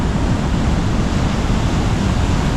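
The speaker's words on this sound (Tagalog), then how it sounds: "Umabot dito yung alon." Strong waves surge at Tibu Tidal Pool in Casiguran, Aurora, producing a loud, continuous wash of surf noise with no talking.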